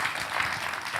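Audience applause for a singer on a French talk show, a dense steady clatter of many hands filling the brief moment evenly.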